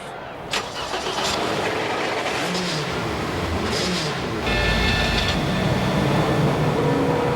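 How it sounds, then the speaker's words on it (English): Race car engines start up and rumble together at the start of the 1997 Bathurst 1000, a steady loud roar that swells and thickens halfway through, with no talk. "Ladies and gentlemen, start your engines."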